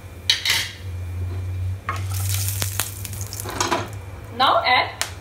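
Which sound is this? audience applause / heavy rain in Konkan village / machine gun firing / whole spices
whole spices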